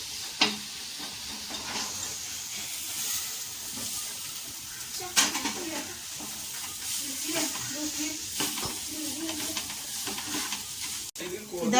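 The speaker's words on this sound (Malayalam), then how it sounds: "ഇതാ സേമിയ ഇട്ടിട്ട് നന്നായിട്ട് ഇളക്കി കൊടുക്കുക" Roasted vermicelli and grated coconut are stirred in a pan, a spatula scraping in irregular strokes over a soft, steady sizzle, with no talking.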